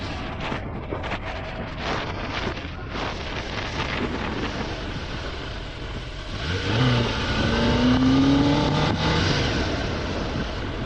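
A Kawasaki ZX10R motorcycle revs hard in first gear toward its top speed, the engine tone climbing steadily behind heavy wind rush before holding high and steady.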